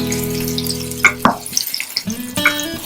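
Potatoes frying in oil for a no-onion, no-garlic aloor dum, a steady close sizzle with a few sharp clinks and stirring knocks over about three seconds, and no talking.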